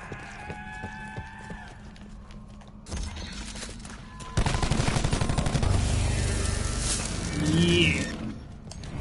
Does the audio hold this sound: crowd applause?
no